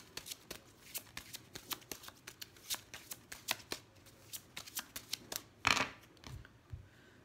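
Oracle cards are shuffled by hand in a steady series of close, crisp riffling flicks, ending in a louder burst of card handling, with no talking.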